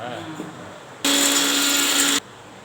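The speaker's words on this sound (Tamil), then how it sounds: "தக்காளி வச்சுக்கேன் பாருங்க இதெல்லாம் போட்டு அரைக்கணும்" A kitchen mixer grinder whirring at full speed on tomatoes and spices, a loud steady whine lasting about a second after some quiet talk, then cutting off abruptly.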